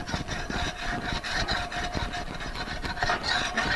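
Steady rasping scrapes as burnt bits are cut and scraped from the bottom of a breakfast sandwich on a griddle, continuous and close, with no talking.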